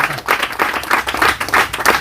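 A church congregation claps loudly together in a steady, rhythmic beat, roughly three claps per second, close and full throughout.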